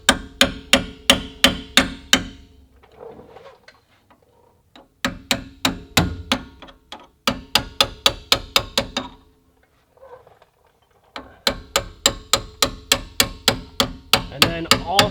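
A 2.5-pound sledgehammer strikes a punch to drive a bolt out of a fork arm during Porsche Cayenne axle work, giving sharp metallic blows in rapid bursts of about six to eight hits with short pauses between them.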